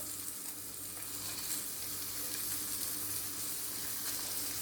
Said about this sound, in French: je mets la valeur de 2 cuillères à soupe d'huile d'olive. Voilà. Je fais rôtir. Ma viande.